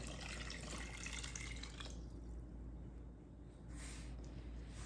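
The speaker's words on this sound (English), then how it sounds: "I'm adding 3 cups approximately of water" Water pouring steadily from a tap into a pot for soup, about 3 cups, a continuous rushing splash that briefly eases before picking up again.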